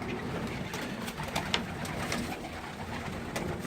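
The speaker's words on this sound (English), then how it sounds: "And show him some new birds." Pigeons or doves coo softly outdoors, low murmuring calls repeating over a faint background hum with no one talking.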